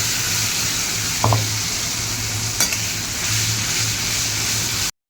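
Masala paste of green chilli, tomato, ginger, melon seeds and cashew fries in oil, a steady close hiss with a couple of brief scraping clicks from stirring.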